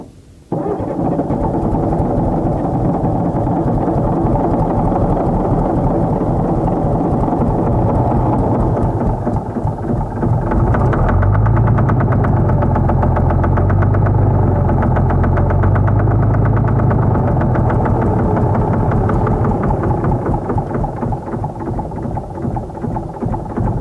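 Diesel engine of a Case 1150 dozer held at wide open throttle, a loud continuous roar and knock that deepens and grows heavier midway, running close by without talk.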